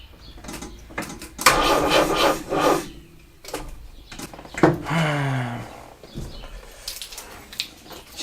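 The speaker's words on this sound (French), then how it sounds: "La batterie est trop morte, c'est pas avec le starter qu'on va démarrer ça." The J9 project vehicle's engine cranks on its starter with a weak, nearly dead battery, giving several sluggish bursts of labored turning separated by pauses, the starter tone sagging as it struggles without catching.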